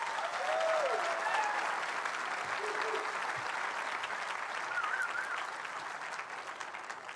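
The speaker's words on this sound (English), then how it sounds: "Let's give them another big round of applause." Audience applause at a 2022 academy commencement ceremony: a broad, moderately distant clapping crowd that slowly tapers, with a few short honk-like calls rising briefly above it.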